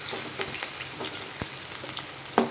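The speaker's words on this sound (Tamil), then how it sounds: "இதை நல்லா வதக்கி விடுவோம்" Small onions (shallots) sauté in oil with fenugreek and cumin seeds, a soft, quiet crackling sizzle with a few light stirring clicks over a couple of seconds.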